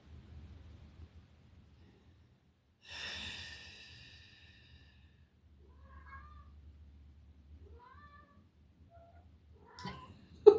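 Cats meowing in a home, a loud harmonic yowl around the three-second mark followed by several softer, shorter mews, with a low hum underneath and a bump near the end.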